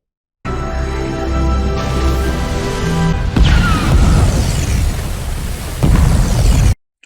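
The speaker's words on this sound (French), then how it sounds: "la bombe, elle explose" A bomb explodes in the action film Thunder Force after being carried through a window and dropped into a river, a loud sustained blast and rumble with a score playing beneath, followed by a second burst of crashing debris near the end.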